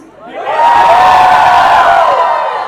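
A large crowd roars and cheers loudly at a song launch event at Mithibai College, swelling quickly into sustained shouting and whooping that holds steady before easing slightly.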